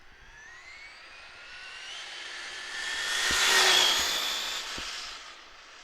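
A Traxxas Drag Slash RC car on a 3S LiPo battery accelerates with a rising high-pitched electric motor whine that swells louder as it passes close, then fades, with a few sharp ticks along the way.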